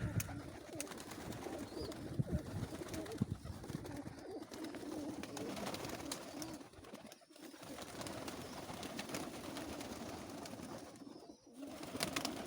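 Pigeons coo steadily throughout, a dense, soft murmur of many birds close together at a pigeon loft, with a constant background hiss.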